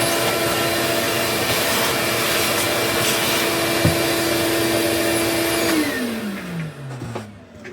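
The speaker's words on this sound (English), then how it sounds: "but definitely need to vacuum that out" A vacuum cleaner sucks dust out of an Xbox Series X console, a loud steady whine that holds, then winds down with a falling pitch as the motor is switched off.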